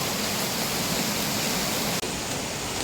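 Steady rain falls on a backyard garden with parijat (night jasmine) shrubs, a dense, even hiss close by that continues without a break and with no voices.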